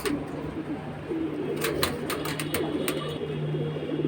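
Saf-chila pigeons coo softly and repeatedly close by, with low droning coos and a few wing flutters or taps, no talking.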